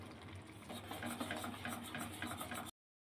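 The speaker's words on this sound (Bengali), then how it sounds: "এখন একটু আমি নাড়বো" Cooked Maggi noodles with masala being stirred in a pan, a steady scraping, rubbing texture that continues without pause for nearly three seconds before it stops abruptly.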